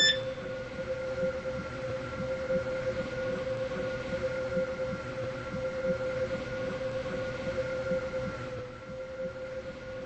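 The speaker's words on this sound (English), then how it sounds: "The train now approaching platform 2 does not stop here." A five-coach train rolls through a station platform in the Stepford Road to Benton game route without stopping, a steady loud rumble with a sustained whining tone that holds for about nine seconds before easing.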